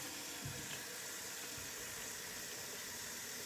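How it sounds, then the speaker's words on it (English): Tap water runs steadily into a cooking pot for mac and cheese, a continuous soft hissing splash heard faintly and alone. "So we're gonna fill this pot up because you can't make mac and cheese without water"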